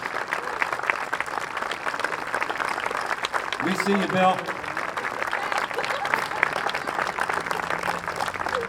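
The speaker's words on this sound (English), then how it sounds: "Let's give them a round of applause." Outdoor audience applause for standing veterans at a big band concert on a town square, steady broad clapping filling the whole stretch, with a voice speaking briefly partway through.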